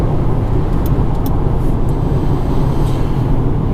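A 2015 Mercedes-Benz C 220 CDI diesel accelerates hard from standstill to 100 km/h in sport mode, its engine drone loud and steady from inside the cabin with a constant road rumble throughout.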